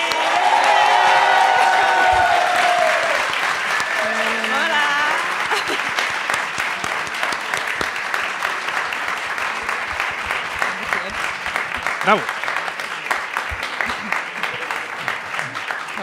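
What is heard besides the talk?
studio audience applause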